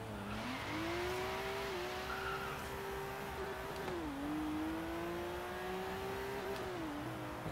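A car engine in the racing game Forza Horizon 3 holds a high, steady rev for several seconds, dipping briefly at gear shifts, loud and continuous with no talk.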